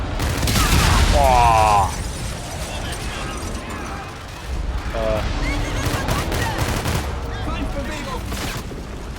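Heavy gunfire and explosions fill a firefight in Call of Duty: Infinite Warfare, with dense bursts of shots and booming blasts. A man exclaims and game voices speak over the din.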